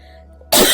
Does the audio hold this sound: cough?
yes